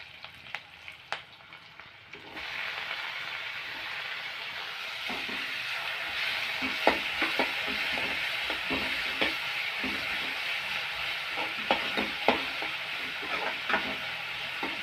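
Tomatoes sautéing in hot oil in a pan for bottle gourd kuzhambu: a quiet start gives way to a steady close sizzle, punctuated by repeated clinks and scrapes as a spoon stirs, with no talking.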